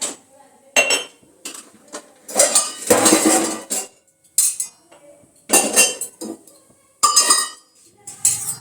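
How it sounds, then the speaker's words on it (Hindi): A metal spatula stirs dry masala roasting in a kadhai over low heat, clinking and scraping in irregular clattering bursts of varying loudness, close up. "तो पलटा दे लेती हूँ मैं।"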